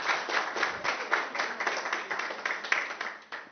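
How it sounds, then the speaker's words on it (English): Audience clapping at an international education conference session, a steady patter of many hands that fills the whole moment at moderate volume without any voices over it. "please go ahead and give a clap."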